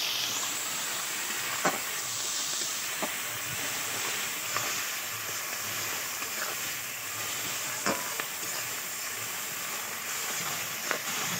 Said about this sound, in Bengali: দেখো তো কী সুন্দরভাবে ভেজে নিচ্ছি